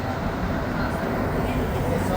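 A Montreal metro train runs at night, a steady low rumble and hiss of the carriage rolling along the track, filling the space evenly throughout.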